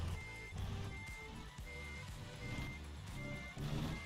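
A truck reversing in American Truck Simulator gives a steady, evenly spaced warning beep that repeats over a continuous low engine rumble, heard clearly with no talking.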